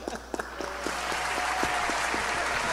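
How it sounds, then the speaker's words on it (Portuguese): An audience in a theatre, at a live cello performance, bursts into applause after a few scattered claps, swelling into a steady, fairly close wash of clapping. "Ó, eu vou aplaudir."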